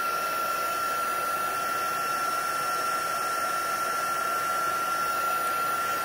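Hand-held dryer blowing to dry glue on a mixed media art piece, a steady, loud whooshing roar with a constant high whine, running without pause.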